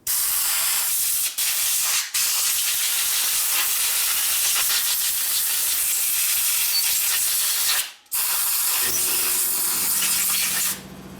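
Carburetor cleaner sprays through a 1964 Harley Sportster XL Ironhead carburetor in a continuous loud, close hiss, broken by a few brief pauses.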